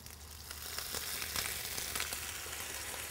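Pineapple frying with sugar in a pan as water is added, giving a dense continuous sizzle and crackle that swells slightly and holds steady, close by with no talking.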